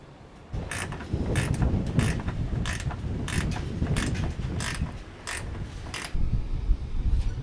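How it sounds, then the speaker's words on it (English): Torx screws being tightened while refitting a Ford Ranger bumper, a close series of rapid ratcheting clicks in short bursts over a low mechanical rumble, with no talking. "I have tightened all the Torx screws"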